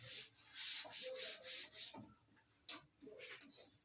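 A duster rubs writing off a classroom board during a physics lesson, quick repeated back-and-forth scrubbing strokes, close and fairly quiet, with brief taps near the end.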